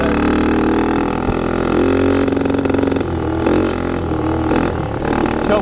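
A dirt bike engine revs and idles in the snow, a loud, close, throaty drone that rises and falls with throttle blips.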